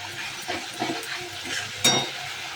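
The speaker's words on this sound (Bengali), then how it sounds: "এই যে নাড়াচ্ছি ভালো করে এরকমভাবে" A spoon stirs fish heads into dal in a pan, with soft scraping and gentle sizzling, small clinks as it moves and one sharper knock near the end, close and fairly quiet.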